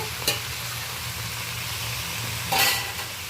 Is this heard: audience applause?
no